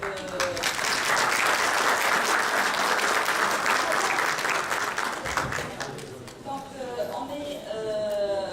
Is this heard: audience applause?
yes